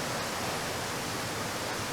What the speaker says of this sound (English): drop-off waterfalls on Lynn Creek